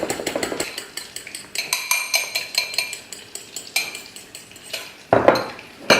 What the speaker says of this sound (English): Now I'm going to whisk up my egg white so that it becomes a bit fluffy.